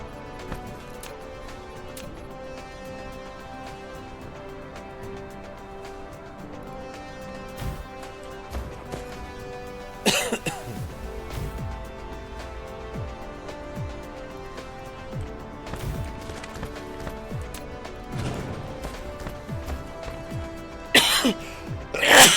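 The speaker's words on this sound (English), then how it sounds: "Cough turned into a sneeze." A person's cough that turns into a sneeze, sharp bursts breaking out twice over quiet background noise from a computer game session.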